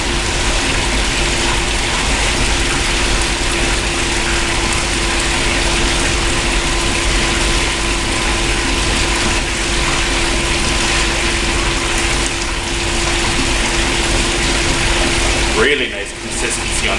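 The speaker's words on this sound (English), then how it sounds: "I've got the 1/8 screen on the rock crusher right now" Rock crusher fitted with a 1/8 screen crushing gold ore from the Jessie mine: a loud continuous mechanical grinding roar with a steady motor hum throughout, near and unbroken.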